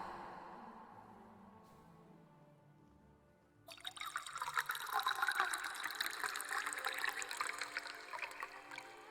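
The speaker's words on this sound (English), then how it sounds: "Okay, now water echo." A water sound effect with a big cave-like echo in The Witcher 3: Blood and Wine. A soft tone fades, then a bright, reverberant rush of trickling, dripping water rises and keeps going, moderately loud.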